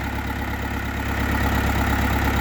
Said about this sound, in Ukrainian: ось міні-трактор підписників